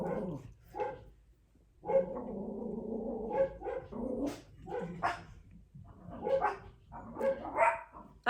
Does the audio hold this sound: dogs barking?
yes